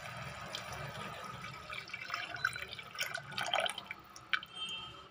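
Tamarind water is poured into a cooking pan for a coconut tamarind kuzhambu, a soft liquid splashing and trickling with faint drips, fairly quiet and close.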